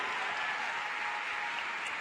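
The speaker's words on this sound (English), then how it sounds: "Give them a round of applause." Audience applauding at an educators' conference at a school, a steady, dense wash of clapping that holds evenly for the whole stretch with no talk over it.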